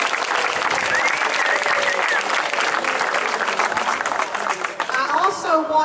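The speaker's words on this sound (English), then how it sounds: "So a special round of applause for them" A crowd at an outdoor MS charity walk applauds a sponsor, a dense, loud round of clapping that holds steady and then thins with a few scattered claps and murmurs near the end.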